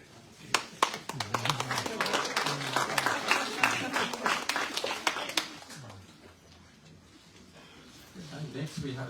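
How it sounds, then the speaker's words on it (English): Applause at a citizenship ceremony in Whyalla: a room of people clapping steadily for about five seconds, dense and fairly close, then fading into quieter murmuring and movement. "applause."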